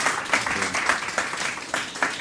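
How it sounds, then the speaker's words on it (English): A conference audience applauds two panel speakers: a short burst of clapping at moderate distance, fairly even and with no talk over it. "maybe a round of applause to Kadri and Mark for their initial inputs"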